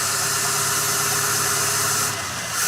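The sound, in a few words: car engine with 2-jet carburetor running roughly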